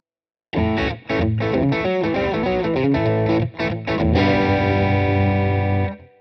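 Overdriven electric guitar through an amp simulator with heavy, overdone reverb, playing choppy chords then a sustained ringing chord that decays into a long reverb wash, loud and alone.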